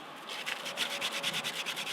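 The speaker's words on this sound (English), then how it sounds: "I don't know how entertaining it is to watch someone sand something." Steady back-and-forth rasping of sandpaper on a hand-carved silver birch wooden spoon, close and fairly quiet, with rapid regular strokes and no talking.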